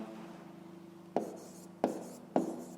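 A pen moves over paper during a school maths exercise, three sharp, distinct strokes standing out from a faint steady room hum, near and quiet.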